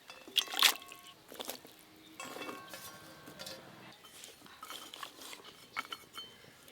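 Chopped long beans tip into a metal wok with a quick rattle and clink, followed by soft scattered clatters and light scraping, close and moderately loud, with no talking.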